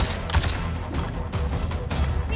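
Gunshots in Avatar Frontiers of Pandora crackle in a quick run of sharp reports over a steady rumbling background, fairly loud and continuous through the short moment without speech.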